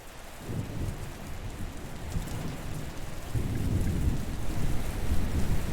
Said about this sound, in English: It is raining a lot here.